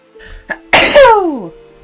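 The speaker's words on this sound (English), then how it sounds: "Got a sneeze, I can feel it." A single loud, close sneeze from a game streamer: a short wet intake breath, then a sharp explosive burst trailing into a falling vocal tail, heard alone.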